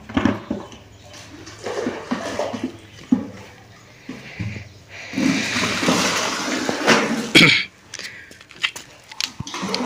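A bucket is dipped into a water tank and water is scooped and poured out in repeated sloshing, splashing bursts, with scraping and clunks in between and people speaking at times.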